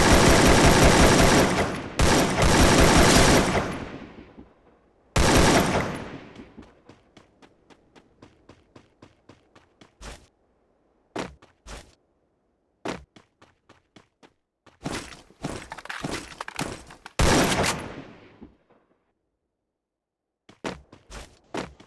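Free Fire video game gunfire comes in rapid automatic bursts, loud and close, broken by quieter stretches of single shots and pattering footstep-like taps, with brief gaps of near silence between volleys.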